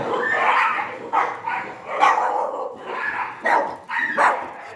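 A dog barks several times in short bursts, fairly close, over a busy background with faint voices.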